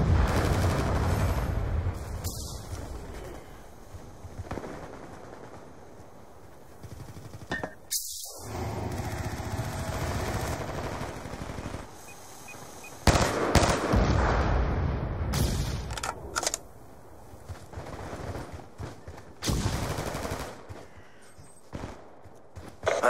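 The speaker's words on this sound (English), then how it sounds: "Friendly death machine spinning up. Death machine ready for deployment." Death Machine minigun from Black Ops 2 firing in a hectic match, with loud sustained bursts, booms and sharp gunfire cracks layered over constant battle noise, broken by a brief near-silent gap.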